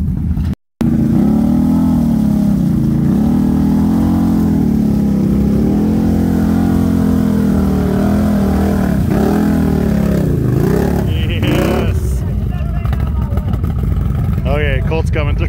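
A powersports vehicle plowing hard through mud, its engine roaring loud and close with surging revs and bogging dips, later joined by clattering and splashing toward the end.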